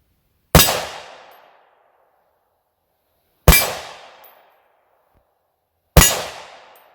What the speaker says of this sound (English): Three rounds of M80 ball.